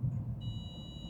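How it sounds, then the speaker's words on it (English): A parked car's warning beeps: a steady high-pitched electronic tone starts partway through and holds unbroken to the end, faint over a low background rumble. "this car is going to keep beeping until I go crazy"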